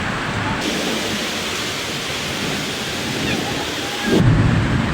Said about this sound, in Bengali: কত প্রচুর বৃষ্টি হচ্ছে আর জোরে বাতাস হচ্ছে